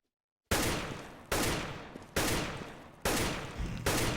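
Five loud gunshots from a first-person shooter game, fired at targets one after another roughly every 0.8 seconds, each a sharp crack with a short decaying tail, with silence before the first shot.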